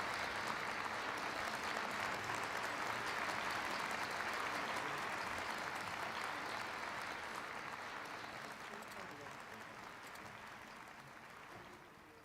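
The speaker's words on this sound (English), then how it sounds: "welcome the co-chairman, Don Burton, with a big round of applause" A large audience at an opening ceremony breaks into sustained applause, a dense, even wash of clapping that holds steady and then slowly fades toward the end.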